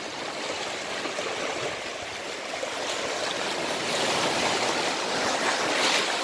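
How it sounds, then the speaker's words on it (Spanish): River water spills and rushes over stones at a spot once used to chill cider, a close, steady broadband roar that swells slightly toward the end, with no voices. "El agüita del río que cae donde refrescábamos la sidra"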